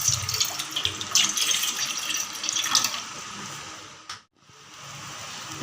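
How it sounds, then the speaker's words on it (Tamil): Water pours steadily from a tap into a cooking pan on a kitchen stove, a continuous splashing rush that stops briefly and then resumes more quietly, with no talk over it. "ஒரு 1/4 லிட்டர் தண்ணி சேர்த்துக்கோங்க."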